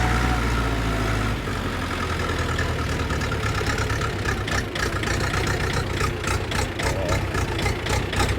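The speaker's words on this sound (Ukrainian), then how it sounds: "Мотор працює гарно." A new 404 tractor engine idles steadily and loudly up close, a continuous low rumble with a faint rhythmic ticking building toward the end, no talking over it.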